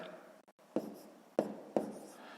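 Numbers being written by hand during a fifth-grade math exercise: three quick, close scratching pen strokes on paper, quiet and isolated, with no one talking.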